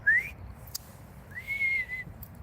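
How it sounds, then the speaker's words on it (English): Someone outdoors in a park whistles high to call a dog: a short rising note, a brief pause with a small click, then a longer sustained high whistle, clear and close. "I know now she can hear a really high whistle"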